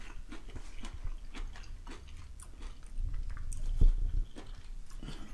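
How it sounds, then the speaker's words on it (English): Close, crisp crunching from chewing cooked frozen vegetables, a run of short irregular bites and mastication sounds with a louder burst near the end, alone without talk. "And you can hear the crunch still there"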